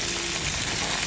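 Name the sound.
fish frying in pan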